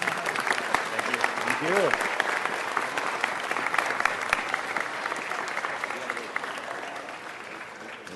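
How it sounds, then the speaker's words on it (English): Audience applause at a city council meeting fills the room with steady, dense clapping from a crowd, continuous throughout and fading slightly toward the end, with a brief voice rising over it early on. "Applause, applause, applause."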